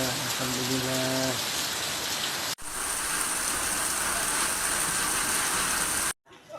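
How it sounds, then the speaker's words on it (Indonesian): Heavy rain pours down steadily during a thunderstorm, a dense, loud wash of drops on surfaces that continues almost without pause, with a brief break and some background tones early on. "Hujan sama petir. Sudah 4 hari tidak dihujani, baru sekarang dihujani bos."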